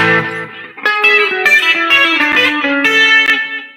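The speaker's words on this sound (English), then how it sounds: "that sounds a little too echoey" Electric guitar played in a chicken pickin' country style through a delay pedal, clean picked notes and short phrases trailed by echoing repeats, fairly loud and alone with no voice.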